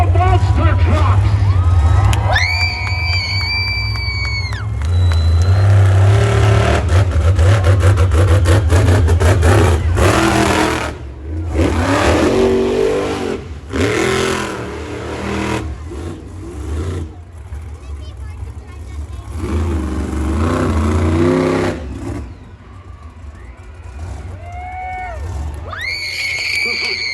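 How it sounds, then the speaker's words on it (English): Monster truck engines rev loudly and repeatedly at a fall fair in Kingston, with deep rumbling surges rising and falling across the whole stretch, mixed with crowd noise and an announcer talking over a PA. "Are you ready to meet the monster trucks?"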